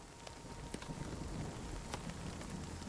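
Rain and hail falling on umbrellas during a storm, a dense continuous patter with occasional sharper hits standing out, steady and close, with no voices.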